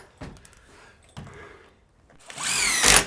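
A power drill drives screws into a DIY garden shed frame, with a couple of knocks and handling noises first and then a loud rising whir from the drill nearby.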